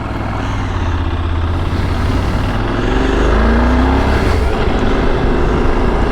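A motorcycle fitted with a OneCarStereo unit pulls away, its engine rumbling steadily and rising as it accelerates, loud and close with wind noise.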